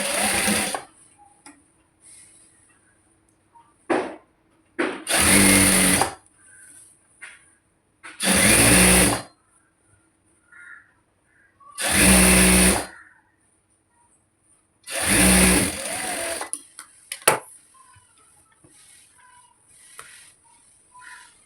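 Sewing machine stitching the side seam of a pleated petticoat, running in five or six separate loud bursts of rapid stitching, each a second or two long, with quiet gaps between them.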